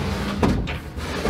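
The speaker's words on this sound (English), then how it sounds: "these drawers go in just fine" Wooden drawers with freshly waxed slides pushed into an antique tiger oak server, making a quick hollow knock and rub as the drawer seats, close and with no speech.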